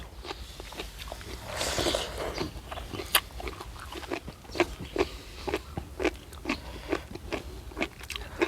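Crisp, crunchy chewing of a Thai seafood papaya salad with squid, cooked shrimp and crisp sunflower sprouts and morning glory, close and loud, with repeated sharp bites in a steady rhythm.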